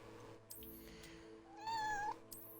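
A pet cat lets out one drawn-out meow close by, clear and bright, near the end of a quiet stretch with faint background hum and a couple of soft knocks; no purring stands out.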